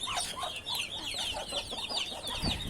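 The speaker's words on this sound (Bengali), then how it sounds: "আজকে একদম ছোট বড় যত হাঁসের বাচ্চা আছে সবগুলাকে ছাদে ছেড়ে দিছি" Ducklings of mixed sizes let loose on a rooftop peep in a busy, overlapping chorus of high chirps, fairly close and steady throughout.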